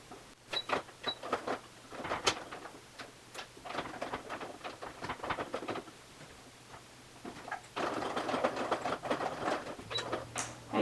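A sewing machine stitches through three layers of leather in quick bursts of rapid ticking punches that stop and restart, with a low steady motor hum underneath.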